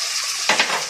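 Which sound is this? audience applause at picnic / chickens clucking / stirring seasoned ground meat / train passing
stirring seasoned ground meat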